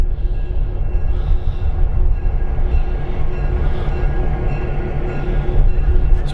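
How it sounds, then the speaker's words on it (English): A locomotive rolls along the Heber Valley railroad, giving off a loud, steady, low rumble and heavy rolling noise that holds throughout with no voices. "Looks like they're bringing the locomotive back now."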